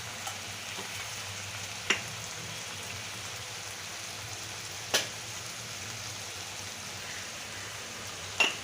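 Pav bhaji masala sizzling as it is stir-fried in a pan, a soft continuous frying hiss with a few sharp utensil clicks spaced several seconds apart, no speech.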